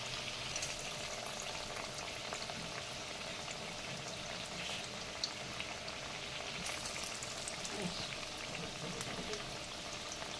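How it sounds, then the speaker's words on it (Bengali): Sesame-coated drumstick leaf fritters bubble and crackle softly in hot oil, a faint continuous frying patter with scattered small pops. "এদিকে এবার তেলে ছেড়ে দিচ্ছি। এইভাবে একটা একটা করে বড়া আমি বানিয়ে নেব"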